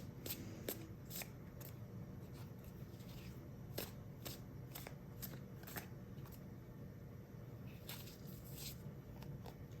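Tarot cards are shuffled and pulled from a deck in a quiet room, soft papery slides and flicks landing in irregular bursts, faint and close.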